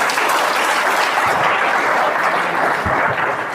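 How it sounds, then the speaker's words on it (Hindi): Loud, steady applause fills a business seminar hall, many hands clapping together at close range without a pause for several seconds. "तालियां बजाओ"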